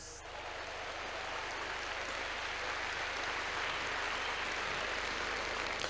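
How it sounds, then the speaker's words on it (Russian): Audience applause during a church service in Moscow, a dense, sustained wash of clapping from a large congregation that stays at an even level throughout. "Дайте ему аплодисменты."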